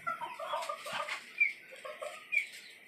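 Caged chickens, including a six-month-old tiger rooster, clucking in short irregular bursts close by, with a few sharper squawks and light rustling and no talk.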